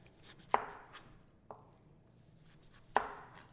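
A knife strikes a cutting board three times at uneven intervals while a carrot is squared off, each chop a sharp, close knock with a short ring, in a quiet room with no talking.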